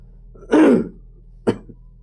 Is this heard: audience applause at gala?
no